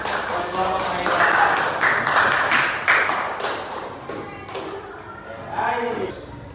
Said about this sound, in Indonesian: Beri tepuk tangan. Buat kelompok mereka.